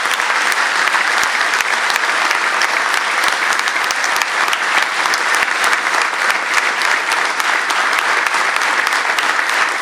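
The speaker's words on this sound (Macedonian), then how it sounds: "Затоа ве повикувам да ги поддржиме со еден громогласен аплауз." A political rally crowd breaks into sustained, thunderous applause, thousands of hands clapping in a dense, even roar that stays loud and unbroken throughout, with no speech on top.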